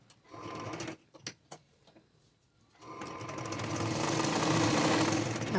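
A sewing machine runs while stitching a princess-cut blouse, starting with a short burst, then a pause with a few clicks, then a long steady rapid whirring run that builds and stays loud to the end.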